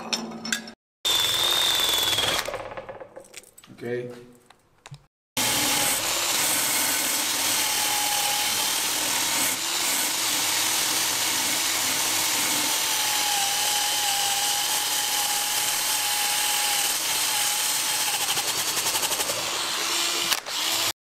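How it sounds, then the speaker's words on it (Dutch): A power wire brush grinds rust off a tank sprocket with a continuous harsh, scraping whir that runs steadily for a long stretch after a few short bursts and pauses, close and loud. "Ga hem staalborsteliseren."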